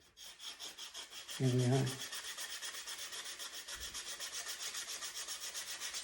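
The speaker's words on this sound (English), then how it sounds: "I'm going to have to sand that down again." A wooden finish is sanded by hand in steady, rhythmic back-and-forth rasping strokes, close and continuous, with a short spoken phrase early on.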